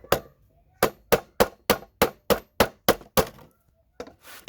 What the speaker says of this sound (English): just because I'm using this sheath hammer.